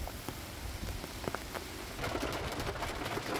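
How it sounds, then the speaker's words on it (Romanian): Steady rain falling outdoors at a beekeeping apiary, a dense hiss of drops on surfaces that grows somewhat heavier partway through, with a few sharper individual drop hits. "acum dacă și plouă"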